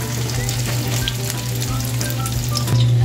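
A pork chop sizzles and crackles steadily in hot oil in a pan for katsudon, close and continuous with no talk.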